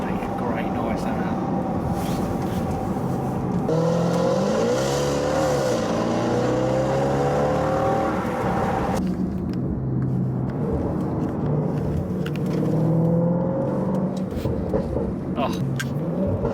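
Range Rover Sport SVR with an X-Pipe exhaust revving loudly and close by, with rising and falling engine pitch sweeps and some crackle, then a rougher lower drone; voices talk over parts of it.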